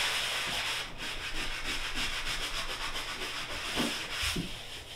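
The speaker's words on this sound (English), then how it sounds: "So I'm going to get this sanded out smooth with the wall." A sanding block rubs lightweight spackle smooth and flush with a bathroom wall, a steady raspy scrubbing that goes on without a break, with a few harder strokes, close by and alone.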